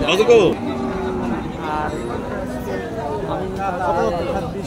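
Cows with calves at the Bamundi cattle market on a rainy day, one loud close moo at the start, then the market's steady crowd murmur with people talking nearby.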